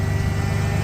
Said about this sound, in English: I do believe she's idling a lot better